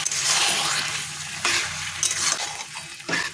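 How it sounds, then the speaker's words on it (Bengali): Meat being stirred into ginger-garlic paste frying in a pan, a steady close sizzle with scraping stir strokes and light utensil knocks against the pan throughout. "এইবার একটু নেড়ে মাংসটা দিয়ে দেবো ভালো করে করতে হবে"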